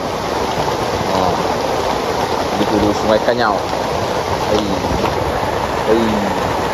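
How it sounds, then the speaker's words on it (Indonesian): Heavy rain falls steadily on a forest river camp beside Sungai Kanyau, with a muddy swollen river rushing nearby; a broad constant wash of rain and water continues under people talking. "Kondisi sekarang hujan lebat dan sungai pun keruh."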